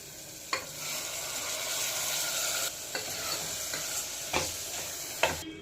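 Tomatoes fry in a pan for mutton curry with a constant close sizzle, while a spoon stirs and scrapes through them in several sharp strokes.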